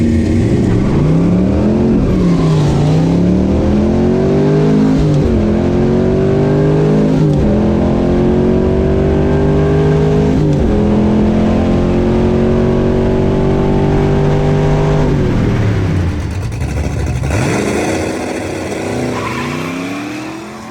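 Camaro drag race cars, a 1969 ZL1 and new COPO models at an NMCA event, blast off down the strip. Loud, sustained engine roar climbs in pitch through several gear shifts before fading slightly near the end.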